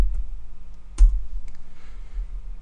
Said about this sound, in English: going down to my command window and typing in describe